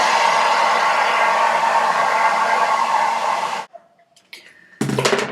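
A hair dryer blows steadily and loudly at close range for several seconds, then cuts off, leaving brief quiet with small handling noises before the airflow bursts back on.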